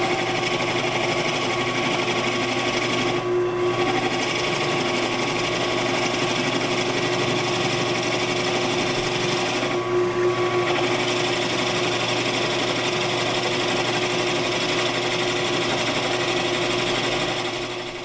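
A Bucktool drill press spins a 1.5 inch Forstner bit at 750 RPM into hard maple, making a steady, loud motor whine and cutting drone that holds evenly throughout with two brief dips.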